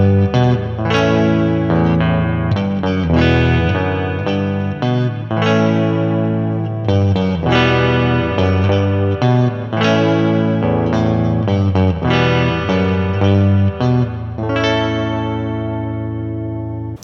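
Electric guitar played through an amp with reverb: a loud, continuous run of chromatic notes and chords with a washy, spacious tail, played alone without talk.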